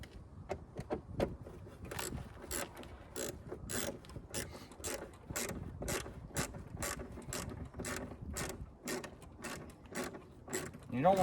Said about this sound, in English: So lastly, just going to put the bolts back in.